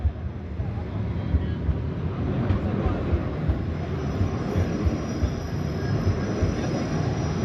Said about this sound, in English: And here's a tram, another form of transportation.